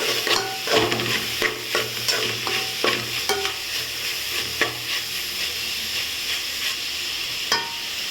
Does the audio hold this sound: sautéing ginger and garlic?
yes